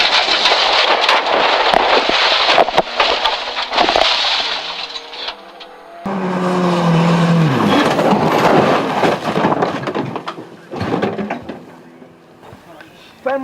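A rally car crashes during a race on a stage with a hairpin left, giving loud crunching impacts and roaring engine noise, while a co-driver and others shout over the chaos.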